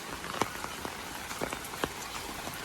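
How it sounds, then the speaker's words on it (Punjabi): Steady early-morning rain patters on a surface at a fair, with scattered heavier drops ticking through a constant wet hiss; no voices. "ਸਵੇਰ ਦਾ 5 ਵਜੇ ਦਾ ਮੀਂਹ ਪੈ ਰਿਹਾ ਲਗਾਤਾਰ"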